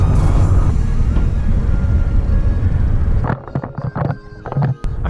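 A 2018 Fiat 124 Spider Classica on a Texas road, a loud, steady rumble of engine and road and wind noise that drops abruptly partway through to quieter, uneven thumps and rattles.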